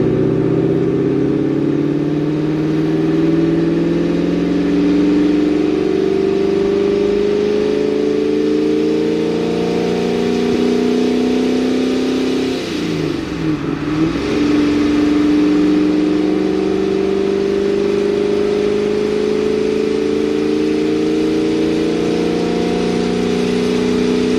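A supercharged Corvette engine drones steadily as it pulls up through the revs toward 4,000 rpm in a low gear, a loud sustained rising hum heard from inside the car with no talking.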